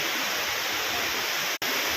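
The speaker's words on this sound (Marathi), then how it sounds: "हे पाण्याचा एकदम असा खुळखुळ आवाज येतो एकदम छानपैकी" Water pours and splashes steadily from a waterfall at Somthan near Badnapur, a constant broadband rush with a single instant dropout, and no voices.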